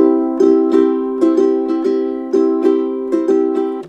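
An ukulele is strummed in a repeating rhythmic pattern, with sharp down and up strokes sounding over a steady chord, close and clear with no talking.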